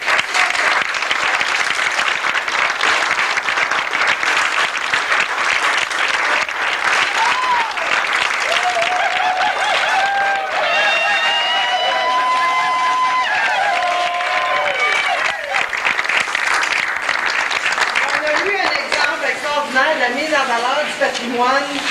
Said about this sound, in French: méritent une main d'applaudissement chaleureuse et tout le monde